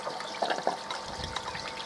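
Water from a koi pond filter system runs back into the pond, a soft continuous trickle and splash with small bubbling pops, close and fairly quiet, no voices.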